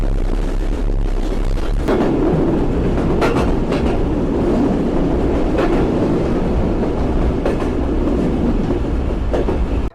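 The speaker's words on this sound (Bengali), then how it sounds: "আমাদের ট্রেন এখন পৌঁছে গেল 12 বাজার রেলওয়ে স্টেশনে" A train pulling into a railway station rumbles along steadily and loudly, wheels clattering over the rails with periodic clicks and a continuous low roar.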